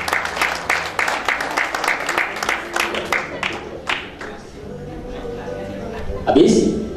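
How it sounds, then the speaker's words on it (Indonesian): An audience at a K-Link Grand BOP gathering in Yogyakarta claps in a brisk burst that gradually thins out and dies away, followed by a brief spoken line. "silakan berikan tepuk tangan lagi"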